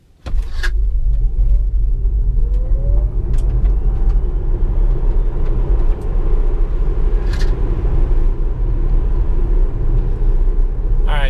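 A Tesla Model S 75D electric car pulls away hard from a standstill, a rising electric whine over loud steady road and cabin rumble that carries on throughout, close and without talk.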